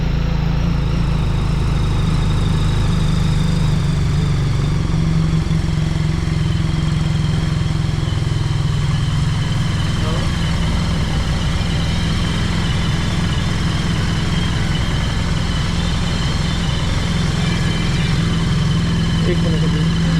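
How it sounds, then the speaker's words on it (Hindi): BMW R1300 GS Adventure motorcycle idling steadily after starting, a constant low engine hum running unbroken and close throughout, with some voice present over it. "जस्ट अभी बाइक को फुल स्टार्ट किए।"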